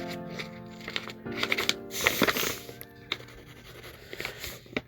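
Pen or pencil strokes drawing lines for a cosplay glove pattern on paper, a run of close, soft scratchy scrapes and brief rubbing sounds, intermittent and quiet, with no talking.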